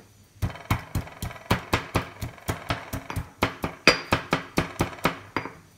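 Steady, rhythmic pounding as ginger pieces are crushed: about twenty sharp, evenly spaced thuds, close and loud, with no talking.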